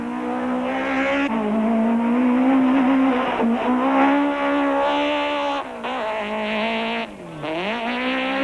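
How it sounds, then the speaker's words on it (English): Rally cars racing flat out on a short, tight stage at a local showground during the 1992 Volkswagen International Rally, engines droning loudly and steadily with pitch rising and falling through gear changes and corners, without talk. "Hannes Grobler and Douglas Judd attack this short stage in the local showgrounds"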